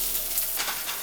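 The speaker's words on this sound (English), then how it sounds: "Take a chopstick, a wooden one, and if it bubbles, ready to go." Hot cooking oil bubbling and sizzling around a wooden chopstick dipped in to test the heat, a close, steady crackling fizz with small bursts, heard alone.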